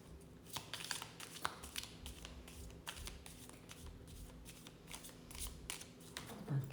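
A deck of playing cards being shuffled by hand, a dense run of crisp riffling flutters and soft slaps repeating steadily throughout, close and fairly quiet.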